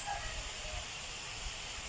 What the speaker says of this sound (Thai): พอน้ำเดือดแล้วนะครับ